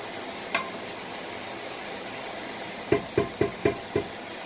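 Onions sizzle in a frying pan during beef paya cooking, a steady hiss that runs throughout, with a quick run of five spatula taps near the end and no talking.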